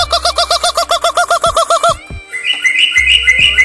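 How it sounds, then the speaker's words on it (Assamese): Loud, close bird calls on a forested hill at Charaideo, Assam: a rapid run of repeated whistled notes, then a pause and a higher, twittering phrase from the bird, with no talk over it. "মই চিঞৰিলে চৰাইজনী চিঞৰে, চৰাইজনী চিঞৰিলে মই চিঞৰো"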